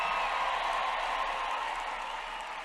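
A packed arena crowd at a Donald Trump rally roars with steady cheering and applause, a dense, continuous wash of noise that holds level throughout.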